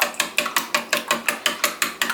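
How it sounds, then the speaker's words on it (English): Eggs with broken yolks being whisked for egg drop soup, giving about eleven quick, evenly spaced clicking strokes of the whisk against the bowl, close and clear with no talking. "break those yolks, and then whisk them up"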